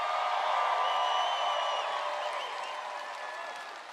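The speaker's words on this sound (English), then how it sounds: "What a crowd, what a crowd." Applause and cheering from a large crowd at a political summit speech in Palm Beach, Florida, a loud, dense wash of clapping that gradually fades.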